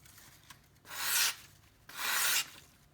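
A knife edge is drawn twice across sandpaper while sharpening, two distinct hissing scrapes of about half a second each, close and clear with quiet pauses between.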